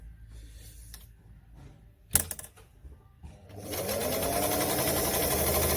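A Singer 348 sewing machine about 60 years old clicks through a few adjustments, then stitches fabric at speed with a loud, steady mechanical whir close to the microphone.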